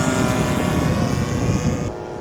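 A CY F8F Bearcat RC model airplane with an 84-inch wingspan drones steadily in flight at low throttle, its engine loud and continuous before easing off slightly near the end.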